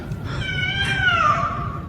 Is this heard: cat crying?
yes